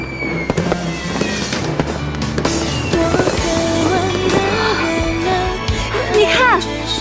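Fireworks burst one after another in a closing-time display, a series of sharp cracks and pops with whistling rising tones, loud and close, while people's voices carry underneath.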